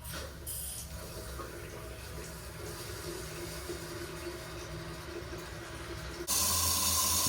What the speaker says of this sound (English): Now notice that the tank is filling